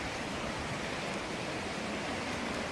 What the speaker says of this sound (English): Little waterfall going down the side, and the water rushing out from underneath